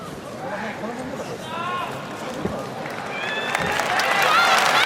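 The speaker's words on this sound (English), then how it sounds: "The crowd is cheering, hoping Yoshida can continue here" Arena crowd at an MMA event cheering and shouting, the noise swelling louder toward the end with excited whoops rising over the mass of voices, alongside commentator talk.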